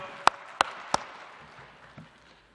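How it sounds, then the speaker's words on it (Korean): Three sharp claps ring out about a third of a second apart in a reverberant church during a Christmas service, followed by a faint fading tail and a soft distant knock. "하나님께 영광과 감사의 박수 올려드립니다"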